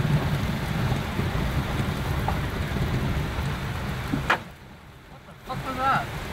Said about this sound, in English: And this is what gets them moving pretty good, is this kind of rain.